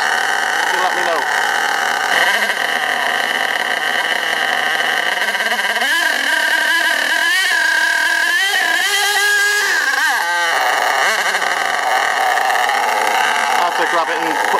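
An STS D30M engine revving high and racing on its own, a steady loud drone with pitch sweeping up and down through the middle of the run, with people talking over it.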